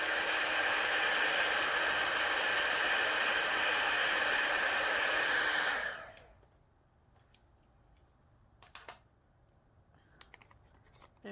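A heat tool blows hot air in a loud, steady, broadband rush for about six seconds, then cuts off, leaving quiet room tone with a few faint clicks.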